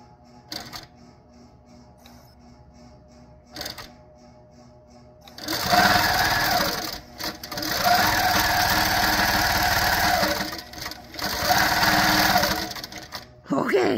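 A Pro Stitcher Lite computerized quilting machine stitches in steady, loud mechanical bursts of rapid needle motion, pausing briefly between runs, after a quieter stretch with faint background sounds at the start.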